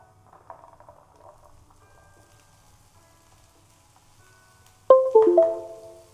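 Tomatoes go into a pan of cooked onions with a sudden loud sizzle and spatter near the end, after a quiet stretch of faint, low pan noise.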